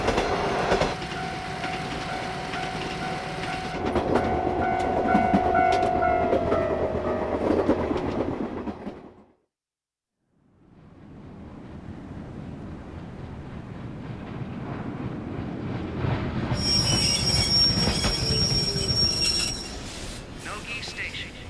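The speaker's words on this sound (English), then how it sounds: "The train will be stopping here for 10 minutes." A train rumbles and clatters along, then goes quiet for a moment as it stops at Nogi Station before the rolling noise resumes, with a high whine joining near the end.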